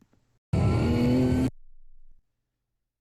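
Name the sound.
car accelerating on throttle during autocross run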